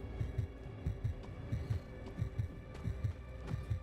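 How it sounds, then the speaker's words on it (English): A steady, deep heartbeat thumps in a regular double-pulse rhythm, loud and close, over a low hum with no talking, signalling low health in the video game Forever Winter. "I'm hearing heartbeat sounds"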